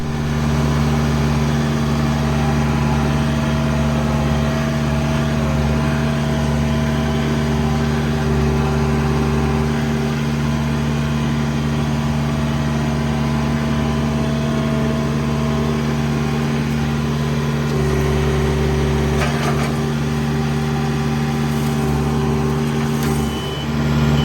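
A John Deere 4044R compact tractor engine runs steadily at a constant mid-pitched drone with a strong harmonic hum, loud and close for the whole stretch, with brief faint knocks near the end.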